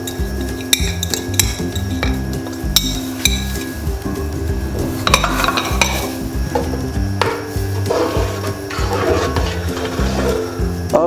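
Whole spices (a cinnamon piece, black cardamom, whole dried chillies and cloves) going into a pot of mixed dal: close clinks and clatter of utensils against the pot with soft stirring and bubbling throughout, and no one speaking.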